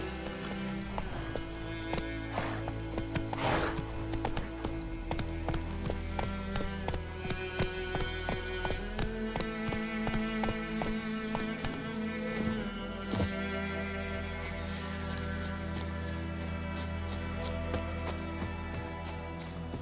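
Steady clip-clop of the horse Roach's hooves as Geralt rides in The Witcher 3, a continuous trotting rhythm running under music and game ambience for the whole stretch.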